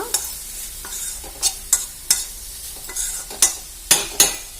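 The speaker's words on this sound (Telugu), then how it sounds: "నేను దోసకాయ ముక్కలు అయితే నేను మధ్య మధ్యలో కలుపుతున్నా" Cucumber pieces cooking for chutney are stirred in a pan, with about a dozen crisp scraping and clinking strokes at an uneven pace over a soft continuous sizzle, close and fairly loud.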